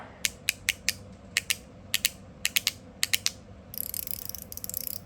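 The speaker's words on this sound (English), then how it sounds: "It's a Haptic coin and a ratchet." An NJT Handpower Haptic Coin fidget ratchets in quick crisp clicks, grouped in pairs and short bursts, close and fairly quiet, ending with a faster run of fine rattling clicks.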